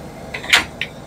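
A tool drawer in the truck-bed storage of a 2015 Chevy Silverado 3500 slides open and shut, giving a couple of brief metallic rolling swishes over a steady background hum.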